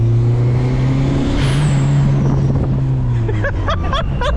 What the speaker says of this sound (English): I want to stick the camera out the window so you guys can hear that blow-off valve.